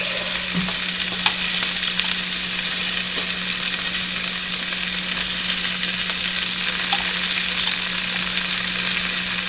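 Garlic fries in a hot pan, giving a constant crackling sizzle at an even, moderate loudness, with no voices.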